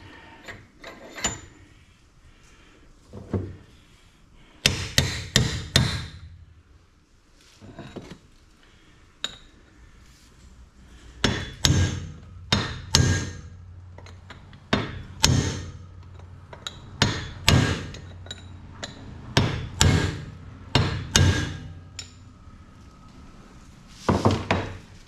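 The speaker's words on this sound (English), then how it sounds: "I'm going to also bump this one with my hammer." Hammer blows ringing against a Jeep Wrangler TJ rear universal joint, sharp metallic strikes in irregular bursts, some single and some quick clusters, close and loud with short pauses between.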